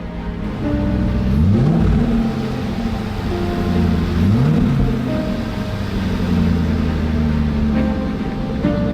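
Rebuilt Range Rover engine running at close range, a steady mid-pitched hum with two distinct revs rising and falling, loud and alone without talk.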